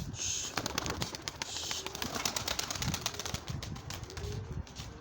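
Soft cooing of pigeons or doves over a busy outdoor background, with faint wing flutters and scattered chirps throughout.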